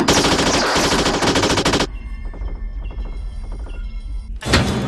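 Rapid automatic gunfire from the film Wing Commander bursts loud and dense, then gives way to quieter mechanical clatter and rattling, before a final loud burst at the end.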